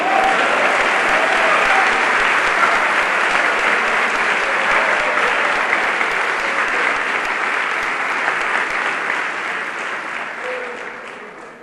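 Church congregation applauding during a sermon on Christian family life, a dense, loud clapping crowd that is sustained and gradually fades toward the end.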